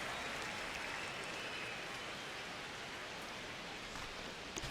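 Stadium crowd at Dodger Stadium in MLB The Show, a faint steady wash of distant murmur and rustling noise without clear cheers or voices.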